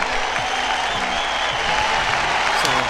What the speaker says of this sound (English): let me give a hand clap to the techies that support me every month